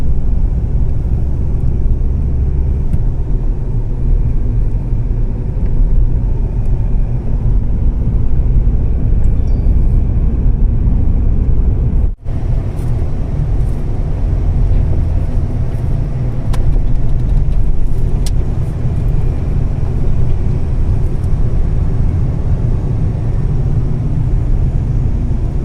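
Hyundai Verna petrol/CNG sedan on a test drive after a heating-problem repair and major service, heard from inside as a steady loud low engine and road rumble throughout, with a brief dip midway.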